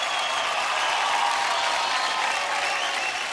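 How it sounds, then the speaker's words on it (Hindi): An audience at a children's team dance competition claps steadily, a dense and even wash of applause that carries on alone with no speech over it. "जोरदार तालियां हो जाए सनम के सुपर हीरोज के लिए"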